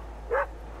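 A single short dog bark or yip from the video game Worlds Align, a brief clear burst rising over a quiet background.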